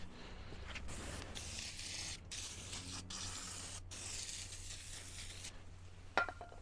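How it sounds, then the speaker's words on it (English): Brake cleaner sprayed from an aerosol can onto a rusty snow plow part; several hissing spray bursts separated by short pauses, close and fairly quiet, followed by a small metallic knock. "So just a little brake clean, just because it's like definitely rusty."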